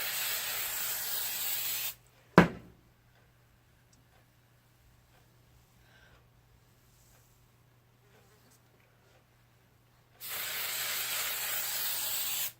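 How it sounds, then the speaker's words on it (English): Hairspray from an aerosol can hisses onto glitter accents on a burlesque costume in two sustained bursts, one at the start and one at the end, with a sharp tap and quiet handling sounds in between. "Hairspray."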